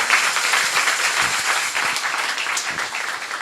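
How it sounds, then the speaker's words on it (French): A church audience applauds after a talk on Bible translation in Africa, dense sustained clapping filling the room at steady loudness with a faint voice underneath. "c'est comme ça on va remercier le Seigneur en acclamant son serviteur"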